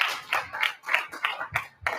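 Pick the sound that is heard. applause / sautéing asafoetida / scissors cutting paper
applause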